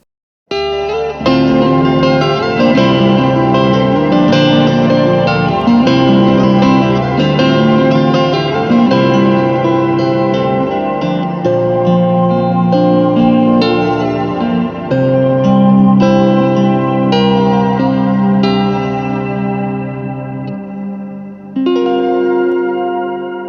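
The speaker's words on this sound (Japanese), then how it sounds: "リバーブ音にオクターブ上の音がこう追加されてキラッとする感じなんですけども" Shimmer reverb on a ZOOM MultiStomp MS-50G guitar pedal, sustained chords blooming into a bright octave-up wash with long, lush echoing tails, played loud and alone for over twenty seconds before fading.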